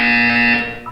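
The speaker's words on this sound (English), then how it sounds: "You will hear a buzzer. When you hear the buzzer, look down at the floor." A loud, steady electronic buzzer in the video game Portal 2 holds one harsh tone for most of a second, then cuts off into a brief chirp.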